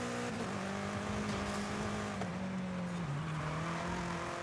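A BMW race car engine in the Forza Horizon 5 racing game drones steadily, its pitch sliding up and down with shifts. It holds a continuous, moderately loud tone with a busy background and no talking.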